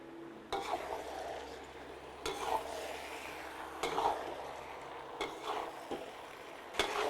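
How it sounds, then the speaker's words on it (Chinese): Meat and vegetables are stir-fried in a wok with doubanjiang and hotpot base, a spatula scraping the pan in repeated strokes over a steady frying hiss, with no voices. "翻炒2分钟入味，"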